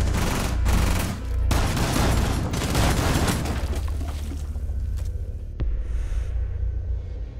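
Auto shotgun gunfire in Rainbow Six Siege on a house map, firing a rapid volley of loud booming blasts for a couple of seconds before fading into rumbling echoes and a few scattered later shots.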